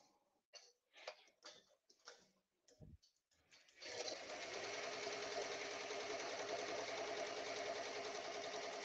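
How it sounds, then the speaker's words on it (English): An embroidery machine runs a placement stitch for a Greek-letter applique. It sets up with a few sparse clicks and taps, then settles into a continuous, even, rapid stitching whir that is close and fairly loud. "what's gonna do now is placement stitch"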